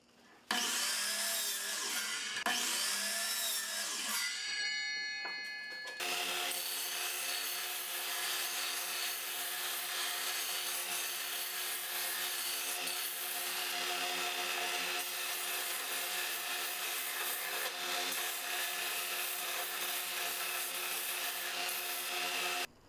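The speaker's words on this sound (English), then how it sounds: "I then sanded the edges and rounded off the top so that the legs can collapse into the tabletop" Sanding the edges of wooden table legs, a continuous dry rubbing abrasion that carries on steadily and close for over twenty seconds, with a brief sharper rasping start and an underlying machine hum.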